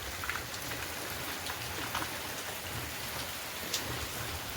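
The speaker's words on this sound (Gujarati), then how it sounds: "બાબા ફૂલ વરસાદ ચાલુ હો ભાઈ" Heavy monsoon rain pours steadily in a Gujarat village, a dense, continuous hiss of drops on surfaces with occasional sharper spatters, close and even throughout with no voices.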